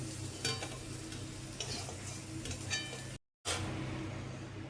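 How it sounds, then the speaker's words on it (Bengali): Fried mushrooms are scooped from a hot pan into a bowl, with a few sharp scraping and clinking strokes over a low, steady sizzle of oil. The sound cuts out briefly, then returns. "এবার এটা ভাজা হয়ে গেছে, আমি একটা পাত্রে এগুলোকে তুলে নিচ্ছি।"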